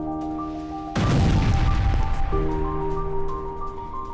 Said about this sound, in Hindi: बंकर में रखे विस्फोटक में हुआ धमाका